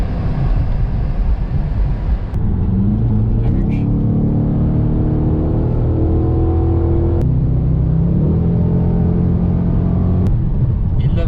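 Dodge Challenger with a 5.7-litre HEMI V8 pulling hard at full throttle, a loud, steady engine roar that builds continuously for several seconds, with the pitch stepping up and restarting at two gear changes; people talk over it inside the cabin.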